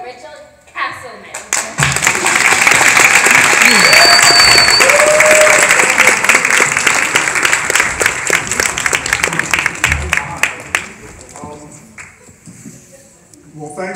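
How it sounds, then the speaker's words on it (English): Loud, sustained audience applause with scattered cheers greets special guest Richard Castleman at a stage performance party, swelling quickly and holding for several seconds before thinning out. "please give a round of applause to Richard Castleman"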